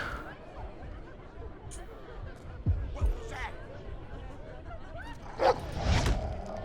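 Video game dog barking and yipping in a kitchen scene, several short barks scattered amid steady game ambience, with a person talking over it.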